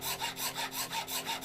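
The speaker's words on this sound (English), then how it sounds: "Alright, well, hacksaw time. Hacksaw. Hacksaw." Hacksaw cutting open a part with steady back-and-forth strokes, about seven rhythmic rasping passes, close and fairly quiet, no talking.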